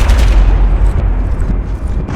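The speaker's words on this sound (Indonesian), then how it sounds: "yang menggantikannya adalah suara tembakan, jeritan" Dull booming gunshot-like thumps in a war story soundscape, several low impacts clustered in the first second, then a softer rumbling tail fading out.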